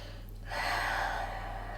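A single deep breath during a Pilates stretch in a full-body resistance band class, a soft, slow inhale-exhale swelling over a steady low hum, close and quiet.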